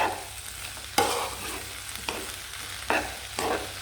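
Carrots fry for fried rice, sizzling steadily in a pan while a utensil stirs them in several sharp scraping strokes, close and without talk.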